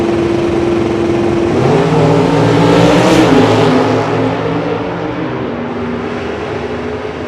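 Drag racing cars, including a 1987 Camaro, launching down the strip: a loud, sustained engine roar with a rising tone that swells midway and then fades slightly as the cars pull away.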